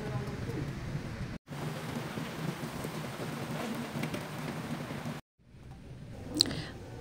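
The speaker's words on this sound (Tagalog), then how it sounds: "biglang umulan ng malakas dito sa bayan" Sudden heavy rain pours down in a town, a dense, steady hiss that stays fairly loud, broken by two brief near-silent dropouts partway through.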